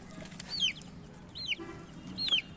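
A chicken being caught for a fowl pox vaccination lets out three short, squawking clucks spaced about a second apart, moderately close, over a low background rumble.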